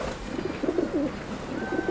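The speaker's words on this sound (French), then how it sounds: "Un jour, Noé envoie une colombe pour regarder dehors." A dove, sent out from the ark in a children's Bible retelling of Noah, gives a few soft, low cooing calls close by, with no voices.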